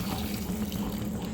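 Water poured from a plate into a pot of cooking chicken, a steady soft splashing trickle that carries on evenly without pause and stays fairly quiet.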